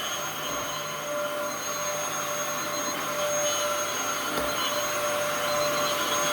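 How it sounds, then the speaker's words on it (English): A Dyson vacuum cleaner runs steadily and continuously indoors, a loud even whir with a faint high whine, holding at a constant level throughout with no talk. "Oh, it's so nice to have my Dyson working."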